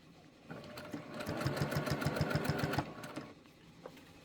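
One close, soft run of rapid, even needle clatter as a sewing machine sews through quilt layers for about two seconds, starting and stopping cleanly.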